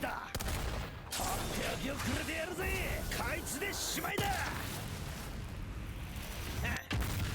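A big single-hit Skybound art explosion from the character Eugen in the action game Granblue Fantasy Relink, with loud blasts and crashing booms over dense battle noise that runs nearly the whole time.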